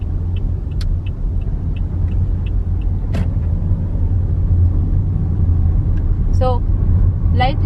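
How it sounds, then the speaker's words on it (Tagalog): An automatic car moves slowly while the driver eases lightly on the gas pedal. A low, steady engine and road rumble is heard from inside the cabin, with faint ticking and a brief voice near the end. "Tinitry ko lang yung pinipress yung gas pedal para hindi naman malakas yung takbo natin."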